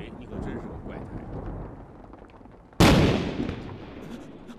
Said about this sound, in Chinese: 那不是打雷，革命军的炮火 啊。